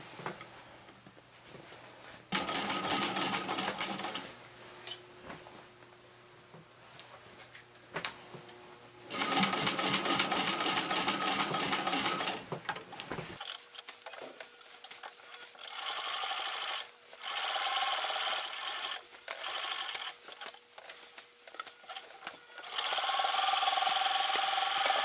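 A Singer Model 15-91 sewing machine stitches a patchwork flat cap in several distinct bursts of rapid, close mechanical chatter, separated by quiet pauses and brief handling sounds.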